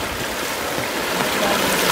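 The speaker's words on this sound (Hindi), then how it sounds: "ये पानी का बहाव यहाँ कल इतना तेज़ नहीं था जितना आज है" Fast floodwater of the swollen Budhi Rapti river in Uttar Pradesh rushes past in a loud, steady, broadband roar that fills the whole stretch, continuous and close, with no voices.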